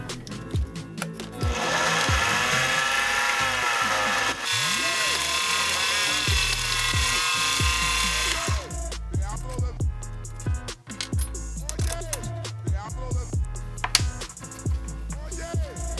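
A lathe turns the threads off a steel piece, giving a sustained metallic cutting whine for several seconds, then broken whirring and knocks as the machine slows and restarts, heard up close without speech.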